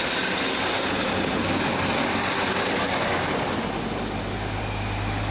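A Northern Rail 156 diesel unit pulling out of Heaton Chapel station on a rainy day, a steady loud engine drone and rolling rumble with a low tone rising near the end.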